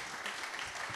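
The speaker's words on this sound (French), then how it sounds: "je pense qu'on peut les applaudir." A conference audience applauds, a brief, soft patter of clapping heard from a distance.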